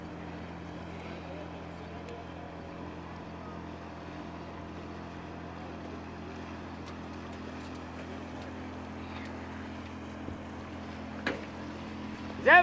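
Small motorboat at full throttle: a steady, droning engine hum holds constant throughout at moderate level with a low tonal whine, overlaid by faint water and wind noise and a couple of brief knocks near the end.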